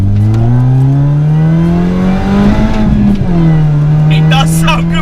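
A Mini Cooper S engine revs loudly from close by on a country B road, its pitch rising and then easing off as the car accelerates through the gears.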